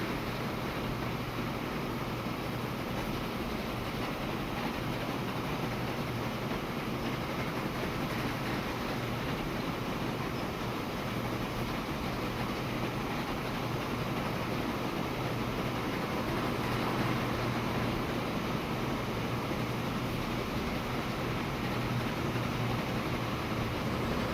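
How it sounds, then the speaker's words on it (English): Trains run on the rail network in the Transport Fever 2 simulation game, giving a steady, even rumble and hiss that holds for the whole stretch with no voices. "passenger train is taking some alternative route."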